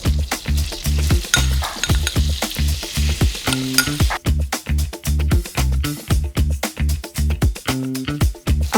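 Corn flour being fried in melted butter and stirred briskly, a loud close sizzle broken by rhythmic scraping strokes of the spoon against the pan, with no talking.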